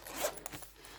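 A zipper on a fabric zip binder pulled shut in one quick, close stroke with a scratchy rasp, heard alone.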